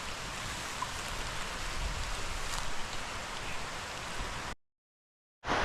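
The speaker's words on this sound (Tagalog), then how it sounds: "Labot na po tayo ng malaking ulan." Heavy rain pours steadily in a broad, constant hiss outdoors, then cuts abruptly to silence before resuming.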